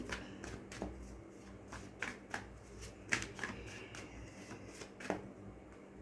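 Tarot cards are shuffled and drawn by hand, making quiet, quick riffling and soft card slaps in an irregular flurry, close up and alone without speech.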